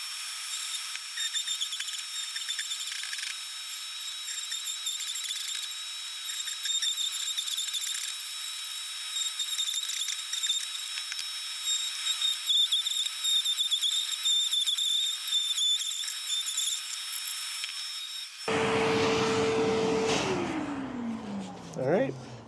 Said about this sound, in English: I like to use my Dremel, and I got a burring tool on here